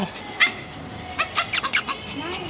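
A small Shih Tzu at a dog cafe near Bangkok gives several short yips and barks in a quick irregular cluster, with people talking and murmuring in the room around it.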